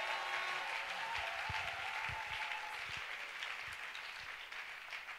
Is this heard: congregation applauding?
yes